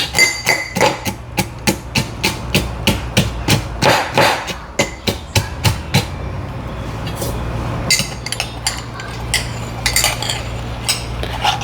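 Crabs pounded with a pestle for Tamil crab rasam, giving a long run of loud, sharp thuds in quick uneven rhythm, close by, with a brief lull before the strikes resume; no speech.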